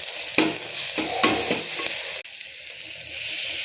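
Onions and mint frying in a pan with steady, close sizzling, broken by a few stirring scrapes and clatters.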